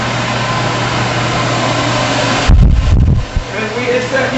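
A steady exhaust fan drones as it pumps air out of a mushroom farm's grow space, a constant low hum with a tonal note, briefly broken by a few louder thumps and rustles near the end.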